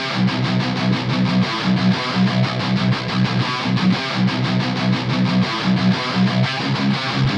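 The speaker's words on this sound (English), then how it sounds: "let's design our own modern industrial metal guitar tone" A heavily distorted electric guitar with a modern industrial metal tone chugs out a tight, driving riff, loud and dense with rhythmic palm-muted bursts.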